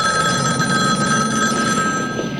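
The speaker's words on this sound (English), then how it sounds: "Your phone's ringing." A telephone bell rings loud and close in a Christmas horror film, one continuous electric trill filling the moment with no voices.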